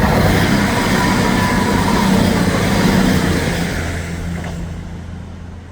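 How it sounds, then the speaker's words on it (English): A CrossCountry passenger train to Reading rumbles past close by at a South Yorkshire station, a loud steady roar of wheels and engine that slowly fades as it moves away. "just about to be disturbed by a cross-country service to Reading"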